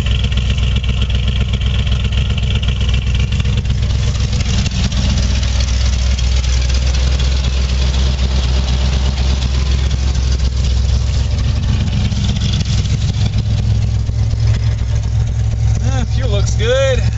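A Ford Bronco on a cold winter-morning start idles with a steady, loud low rumble throughout, the exhaust note shifting slightly with pipe routing, with someone talking over it.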